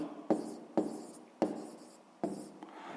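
Pen or chalk writing out a math answer, a series of short scratching strokes in an uneven rhythm, close and fairly quiet, with no one talking.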